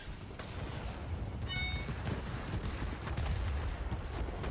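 Focke-Wulf Fw 57 heavy fighter's guns firing in World of Warplanes, a steady dense rattle of automatic gunfire over engine roar, continuous and loud throughout.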